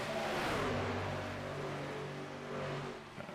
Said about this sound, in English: I can hear the number 6 engine. It does not sound right.